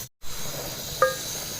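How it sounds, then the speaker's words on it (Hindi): Beef fries in a pot of hot oil with a steady, moderately loud hiss and sizzle that cuts out briefly near the start, then continues evenly with a small clink partway through. "अब हम इस ऑयल के अंदर बीफ को फ्राई कर देते हैं।"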